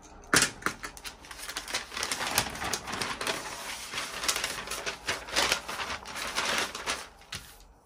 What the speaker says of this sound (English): using my tracing wheel to follow this new waistband.